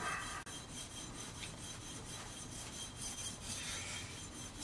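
The sole of a Kobalt hand plane is lapped with Windex as lapping fluid, producing a continuous gritty rubbing and rasping in steady back-and-forth strokes, close and fairly quiet.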